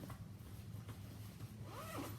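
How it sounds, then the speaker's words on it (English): A zipper on a Vera Bradley shoulder bag is pulled open in one soft, steady run, quiet and close, with faint background hum. "Unzip it."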